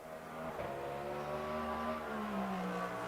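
Aston Martin race car engine in Le Mans Ultimate rumbling low and steady, pitch gliding slightly as it revs, a continuous deep drone heard alone at moderate level.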